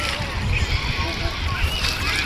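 Water sloshing and splashing at the Grand Anicut (Kallanai) dam, a steady close churning wash of river water with people wading, voices mixed in underneath throughout.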